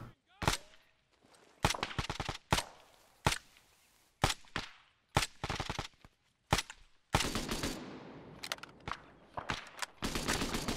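Rifle gunfire in the ArmA 3 video game, sharp single shots and short bursts spaced irregularly, loud and close, with quieter distant reports and rattling between them and no talk over the firing.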